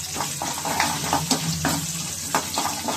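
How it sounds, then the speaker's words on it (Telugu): Curry leaves fry in hot oil for a tempering, giving a close, continuous sizzle with crackling pops and a few light stirring clinks, and no talking. "కరివేపాకు పోపు వేసేసాం"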